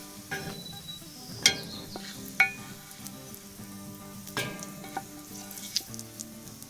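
Bacon frying in a cast iron skillet during a breakfast skillet cook, a steady soft sizzle with a few sharp clinks and scrapes of a utensil against the pan, fairly quiet and without speech.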